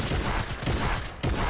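Rapid automatic gunfire during a Fortnite fight, a dense loud fusillade of shots rattling nearly continuously with one brief gap near the end, close and harsh.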